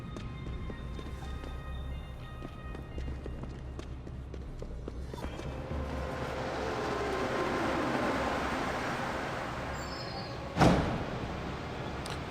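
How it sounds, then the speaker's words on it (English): A train in Deus Ex: Human Revolution rumbles in and swells into a broad whooshing roar that builds gradually, then ends in a sharp clank, all under faint footsteps. "I love that the train is just on demand."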